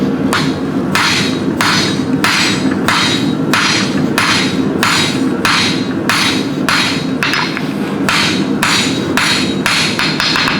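A blacksmith's hand hammer strikes a hot steel hook end, drawing it down in thickness. The close, loud blows fall in a steady, even rhythm of about one or two per second and carry on throughout, with no talking.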